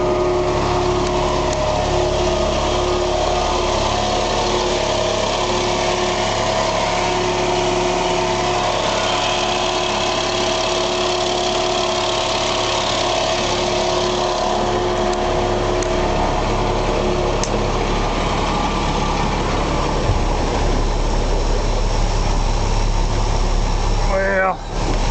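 A tender truck's engine idles steadily and loudly for the whole stretch with a constant mechanical drone, and a brief clunk comes near the end.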